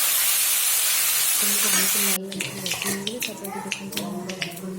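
Broad hiss of mushrooms frying in hot oil fills the first two seconds, then cuts off into scattered clicks and light crackles, while a person talks nearby over the cooking.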